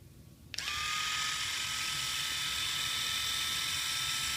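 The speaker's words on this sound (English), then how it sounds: "now I'm going to show you the awesome power of this shaver." A Philips Norelco AT895 triple floating head electric shaver switches on with a click after a brief quiet moment, then gives a steady, close, high-pitched motor buzz that holds unchanged to the end.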